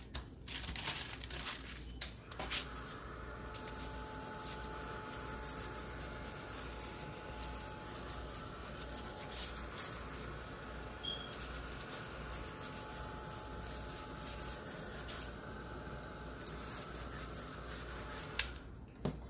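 A paper towel rubs and crinkles over waxed paper to soak up excess wax, making soft, faint, continuous scrubbing and rustling with brief louder crackles near the start and end.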